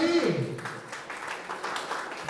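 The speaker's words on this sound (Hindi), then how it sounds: "अम्मा चैरिटेबल ट्रस्ट के लिए एक बार तालियां बजाते भाई" Audience applause at a dance app launch event, a moderate, continuous clatter of clapping following a brief voice at the start.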